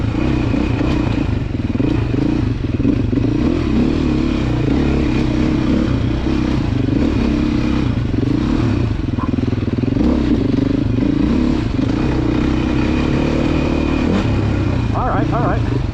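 Beta four-stroke dirt bike engine at a demo day, rumbling steadily as the rider eases out the clutch and pulls away, close and loud throughout with clattering and knocks, a voice talking over the engine.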